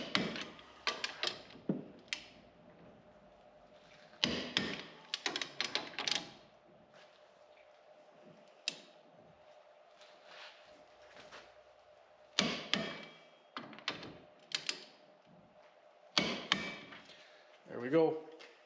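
A wrench clicks and ratchets in short clustered bursts while wheel spacer nuts on a 2020 Polaris Ranger XP1000 Northstar Ultimate are tightened to torque spec, close and crisp with quiet gaps between.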